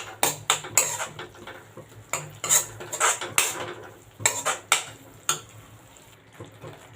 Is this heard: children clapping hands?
no